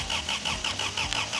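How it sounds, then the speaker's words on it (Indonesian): A scrap-built car engine cranks without catching, a steady rhythmic churn of the starter with regular pulses, close and fairly loud, no voices. "Pengapiannya berfungsi, kita nyalakan mesinnya."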